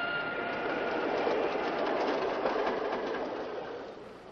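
A train rolls steadily along the rails with continuous rumbling and faint rhythmic clatter, a moderately distant, even wash of noise that fades slightly at the end, with no voices.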